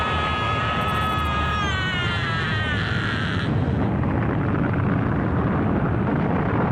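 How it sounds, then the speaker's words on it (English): Dragon Ball Z anime scene of Vegeta's Final Explosion attack: a sustained roaring blast with rumbling low end, topped early by a high whining tone that fades as the roar continues, loud and close with no talk. "Number 7. Vegeta Final Explosion"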